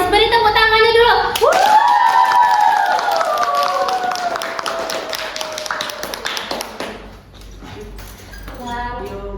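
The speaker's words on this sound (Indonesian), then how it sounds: "Beri tepuk tangannya dulu." Audience clapping to welcome guests at a school religious-club podcast event, with a loud electronic tone sweeping across the opening seconds over steady claps, then quieter scattered claps and talk.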